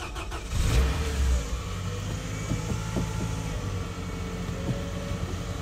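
A Toyota Camry 30 long left in a garage cranks and catches, then settles into a low, rough idle with light revs, heard close and alone.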